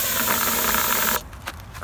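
A can of engine degreaser gives one steady, close hiss of spray at a valve cover hose on a Camry engine, then cuts off sharply into faint clicks and rustle.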